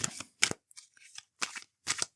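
Several quick bursts of tarot cards being shuffled, riffled in short rhythmic flurries with brief pauses between, close and fairly quiet.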